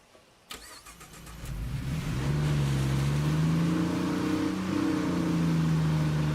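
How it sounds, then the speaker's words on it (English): In State of Decay 2, a car engine starts with a sharp jolt, then settles into a steady mid-pitched drone that swells and holds loud as the vehicle pushes slowly through water. "I forgot they slowed the cars down in water"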